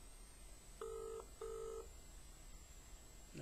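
Two steady dual-tone beeps from a telephone call to an office line, each about half a second long with a short gap, over faint line hiss, then a soft sound starting at the very end.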